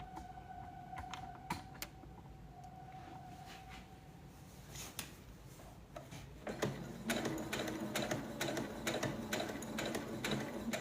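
A domestic sewing machine stitches a tote bag: quiet, rapid ticking needle strokes that speed up into a denser, louder run partway through, close by with no voices.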